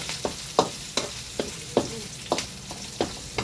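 Green chillies frying in a pot for chicken sinigang, stirred with regular scraping strokes roughly every half second over a continuous sizzle, close up.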